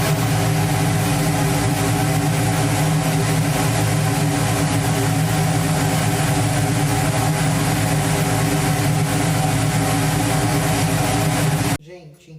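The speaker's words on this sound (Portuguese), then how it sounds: "vou ligar a capela" A laboratory fume hood fan runs as a loud, steady broadband whoosh with low rumbling hum, continuing unchanged until it cuts off abruptly near the end.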